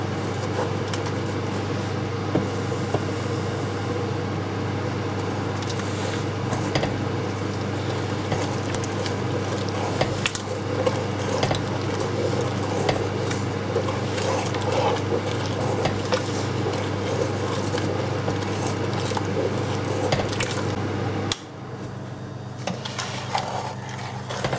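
Plum jam and sugar stirred in a pan to dissolve the sugar, a steady scraping of the spoon around the edges and across the bottom, continuous and close, over a constant low hum that drops away near the end.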